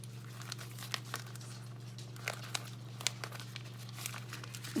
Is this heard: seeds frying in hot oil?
no